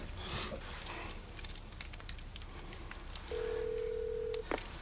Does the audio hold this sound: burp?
no